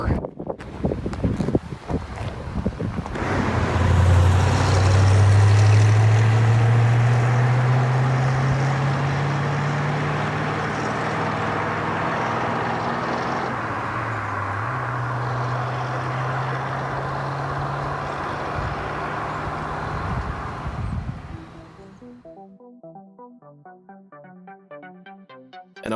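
1966 Ford Mustang GT driving, a low engine rumble that climbs in pitch and then holds under heavy wind buffeting before fading out near the end.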